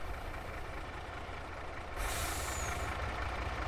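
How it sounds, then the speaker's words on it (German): A heavy Mercedes-Benz Arocs truck engine in Farming Simulator 22 rumbles steadily at low pitch, with a sharp hiss of air bursting in about halfway through and lingering to the end. "Das ist ein Standard-LKW-Sound, ne?"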